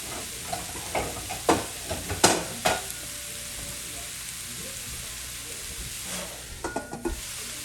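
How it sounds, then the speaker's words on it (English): Tofu stir fry sizzles in a pan, with a steady frying hiss under scattered sharp scraping and stirring clatters from a utensil, several quick strokes early on, then a quieter simmer before a few more stirs. "Go ahead and cover our tofu. Let it cook for a few minutes and we'll be good to go."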